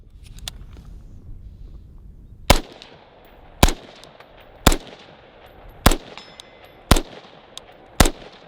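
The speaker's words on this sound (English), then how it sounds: "we'll incorporate some double taps and things like that, try to see how well that performs as far as muzzle climb" Rifle fitted with a 3D printed NERO 556 muzzle brake fires six sharp, loud gunshots spaced about a second apart, each a hard crack with a short ringing tail, outdoors with no talk between shots.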